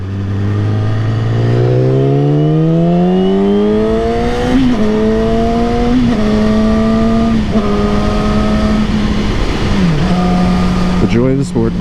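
Yamaha R6 sport bike accelerating hard, its engine note climbing steeply through the gears with brief dips at each shift, loud and close under wind rush.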